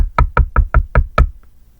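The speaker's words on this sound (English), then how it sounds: "There was somebody knocking on my window." Six quick, sharp knocks rap on a window pane in an even rhythm, close and loud, followed by a brief silence.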